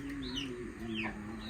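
Chickens cluck and call softly in a village over a low steady background, with a couple of higher chirping notes mixed in.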